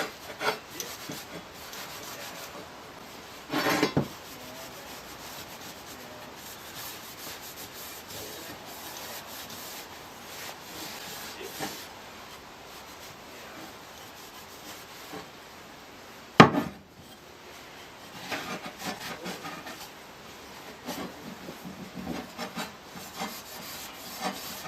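Cloth rubbing methylated spirits over a scythe part being restored: steady, close scraping and wiping strokes, moderately quiet, with a couple of sharper knocks, no talking.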